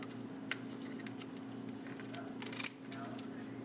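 Scissors trimming camouflage material to fit the curve of an airsoft pistol, with soft snips and crinkling rustles, a louder burst of cutting near the end, all close and fairly quiet.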